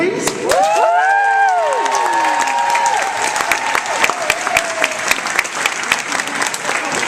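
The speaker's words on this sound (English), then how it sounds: "Round of applause, please." A crowd claps and cheers loudly, with voices whooping over the applause at first, then the clapping continues as a dense, steady patter.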